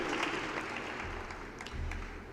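Applause from an audience at a press conference, a steady, moderately distant wash of clapping lasting a couple of seconds.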